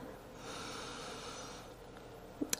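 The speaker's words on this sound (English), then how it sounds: "Take another full breath here, inhale" A slow, deep breath drawn in through the nose during a gentle beginner yoga stretch, a soft sustained airy inhale lasting about two seconds, ending in a couple of faint sniffs.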